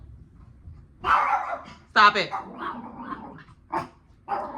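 A dog growls and barks in short, close bursts indoors, with whiny yips between, while a person speaks briefly to it.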